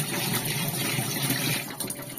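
A steady, fairly loud rush of running tap water pours continuously as a tomato is washed beneath it in a home kitchen while cooking tomato lentil dal.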